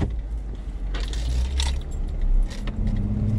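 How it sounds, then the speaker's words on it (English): Car keys jangle and rattle in several bursts inside a Jeep, with a low engine hum running underneath throughout. "I don't know why I put the keys in here."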